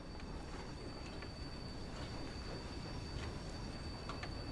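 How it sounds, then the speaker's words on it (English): Steam train in a video game rolling with steady low rumble and wheel noise, faint metallic squeals and clicks as the combination brake brings it to a stop, continuous and moderately distant, no talk. "gently apply the combination brake to bring the train to a stop at our destination"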